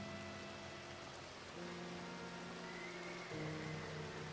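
Rain pours down in a Red Dead Redemption 2 game scene, a constant soft hiss of falling water with faint low tonal drones beneath, quiet and unbroken.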